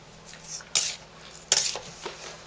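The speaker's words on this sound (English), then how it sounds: "Let me stir them up just a little bit to get them started" A spoon stirring homemade sugar scrub in a bowl, a few close scraping, gritty strokes with soft clinks at an uneven pace.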